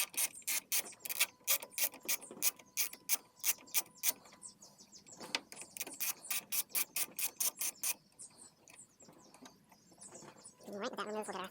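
A ratchet on a 10mm socket backs out the bolt at the middle of the strut brace in the engine bay of a BMW F80 M3. It makes bursts of rapid, close, sharp clicking with short pauses between strokes.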